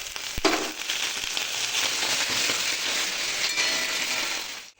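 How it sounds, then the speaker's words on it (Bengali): Green chillies sautéing in a pan for pickle, giving a steady, fairly loud frying sizzle that runs unbroken with a few faint knocks near the start. "এইবার এর মধ্যে কাঁচা লঙ্কাগুলো দিয়ে দিলাম, দিয়ে একটু ভালো করে কষিয়ে নেব।"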